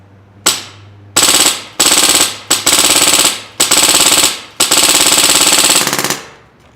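An airsoft gun fires in loud, close bursts: one quick shot, then several rapid full-auto strings of clattering reports separated by brief pauses, with no talking.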